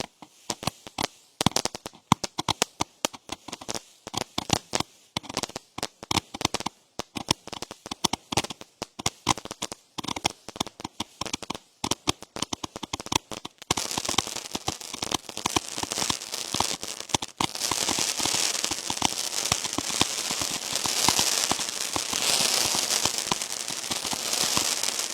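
Consumer fireworks going off, starting as a fountain-style effect: a dense, continuous fizzing crackle and hiss, with sharp pops scattered through the first half and a steadier spray of sparkle toward the end.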